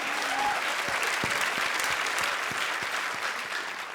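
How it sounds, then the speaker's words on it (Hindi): A comedy show audience claps steadily in a dense wash, with a few louder individual claps standing out near the front and a faint voice briefly audible early on. "एक बार तालियां।"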